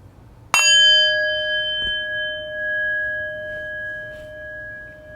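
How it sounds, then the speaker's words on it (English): A single meditation bell struck once, giving a clear metallic ding that rings on with a long, pure, slowly fading sustain in a quiet room. "in just a moment I will ring the bell, ending our second round of meditation"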